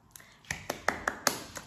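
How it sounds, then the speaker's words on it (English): A few sharp, light hand claps sounding off one at a time at an uneven pace, fairly close and soft, in a quiet indoor room. "I'm clapping for you"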